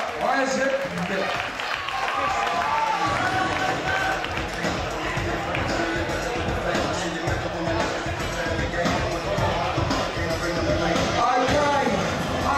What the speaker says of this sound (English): And a big round of applause for your runner-up, Isaac Miller.